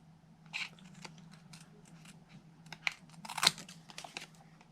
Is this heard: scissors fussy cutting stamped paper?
yes